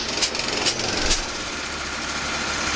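A gas-powered air compressor runs steadily beside work on a John Deere 200D track adjuster, giving a loud, continuous rattling engine drone with a few brief sharper hissing bursts near the start.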